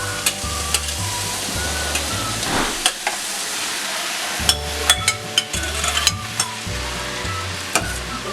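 Grilled onion and garlic with freshly added tomatoes frying in a pan for huevos rancheros, a steady close sizzle broken by sharp utensil taps and scrapes against the pan, with a short quieter stretch midway and no talk.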